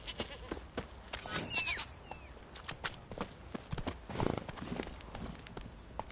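Horse Roach's hooves clip-clopping in The Witcher 3, a steady walking rhythm of distinct hoof strikes with faint ambient animal calls in the background.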